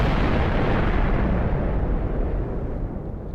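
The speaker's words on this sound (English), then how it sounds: "it makes quite a big explosion" Huge nuclear explosion in the Minecraft Feed The Beast Infamy modpack: a loud, sustained booming roar that rumbles continuously and slowly fades, with no voices.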